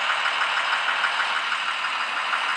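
Truck engine in the Truck Simulator Pro 18 mobile game droning steadily in first gear, a continuous mid-pitched rumble with a faint regular knock and no pauses throughout.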